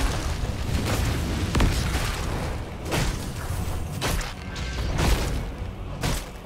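Repeated heavy cannon booms in the video game Heroes of the Storm roll out in a dense barrage, each blast followed by a rumbling tail, loud and continuous like cannons firing in quick succession.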